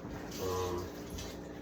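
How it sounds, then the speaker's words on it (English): Tap water running as a cucumber is rinsed under it in a home kitchen, a steady close splashing that swells briefly partway through. "So I have my cucumber here. I'm gonna rinse it off."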